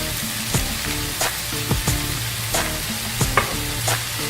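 Chana dal and bitter gourd fry with red chili, salt and turmeric, giving a continuous close sizzle with regular scraping strokes of a spoon against the pan, loud and with no voices.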